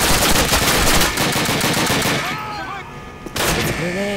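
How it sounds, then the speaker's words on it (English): Gunfire and explosions from the Call of Duty video game, with a dense burst of continuous shooting and a loud blast at the start, then a brief quieter stretch before another sharp burst. "It's a grenade."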